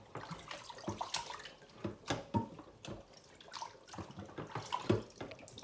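Water running from a tap and splashing as raw meat is rinsed with vinegar in a kitchen, irregular close splashes and handling noises throughout, no talking.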